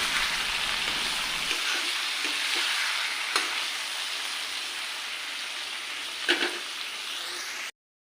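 Pieces of duck meat fry with ground cumin in a hot pan, giving a loud, continuous close sizzle with a few soft stirring knocks and scrapes.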